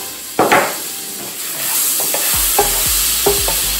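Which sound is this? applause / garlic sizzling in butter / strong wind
garlic sizzling in butter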